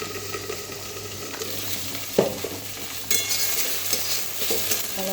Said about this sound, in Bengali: এখানে আমার নিম বেগুন ভাজা হচ্ছে